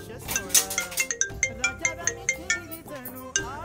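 A mobile phone ringtone chimes in a quick repeating melodic pattern of bright tones, playing loudly for several seconds with no talk over it.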